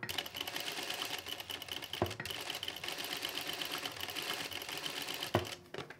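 An industrial sewing machine fitted with a shirring gathering foot stitches fabric at maximum stitch length, a steady rapid whirring hum running nearly the whole time, with a couple of brief clunks near the start and end.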